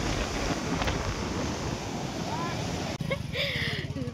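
Sea waves and gusting wind at Aravi beach near Shrivardhan in the rain, a steady broad roar of surf and wind noise with a brief dip near the end.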